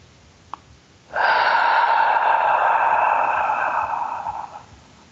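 One long, steady breath during a calming meditation, drawn close and clear for several seconds before slowly fading, preceded by a tiny click over a faint background hiss.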